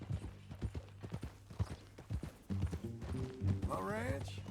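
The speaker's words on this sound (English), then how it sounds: "That new horse?" Horse hooves clip-clop in a steady rhythm in Red Dead Redemption 2, close and distinct, with game dialogue voices talking over them and a horse whinny rising near the end.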